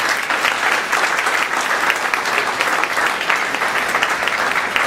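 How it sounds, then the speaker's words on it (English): Audience at a political rally applauding veterans, a loud, dense and sustained wash of many hands clapping at once, steady throughout with no break. "Give these guys a round of applause."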